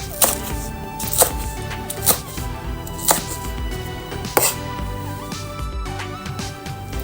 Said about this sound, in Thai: ส่วนใบก็หั่นเป็นชิ้นยาวท่อนๆแบบนี้นะคะ